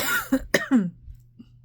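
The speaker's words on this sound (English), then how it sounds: "This coughing is driving me nuts." Several sharp coughs in quick succession, close and loud, followed by a faint throat-clearing sound before trailing into quiet.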